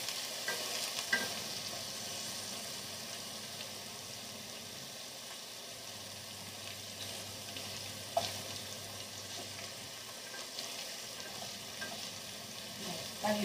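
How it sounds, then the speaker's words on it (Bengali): Paneer and potatoes fry side by side in a large wok, a steady close sizzle with occasional stirring clinks and scrapes, a low hum running underneath throughout. "একদিকে পনির ভাজছে আর একদিকে আলু ভাজছে।"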